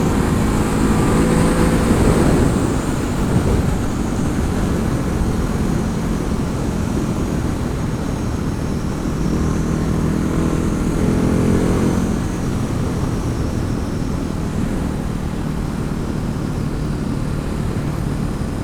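Steady engine drone from a Ducati Hypermotard 950 motorcycle ridden at about 3000 rpm on a wooded country road, a loud continuous rumble with wind noise and slight swells in pitch.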